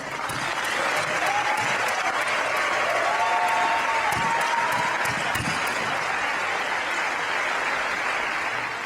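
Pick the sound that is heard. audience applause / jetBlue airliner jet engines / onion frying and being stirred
audience applause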